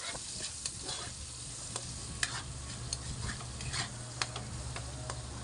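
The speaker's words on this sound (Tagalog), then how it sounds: "Ayan, at hinulog ko na ang aking mga sibuyas. Sabay halo." Chopped onions sizzle in a hot pan as they are stirred, with steady frying hiss and intermittent scraping clicks of a utensil against the pan, close and fairly quiet.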